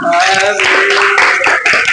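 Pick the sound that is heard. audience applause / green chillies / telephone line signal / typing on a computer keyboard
audience applause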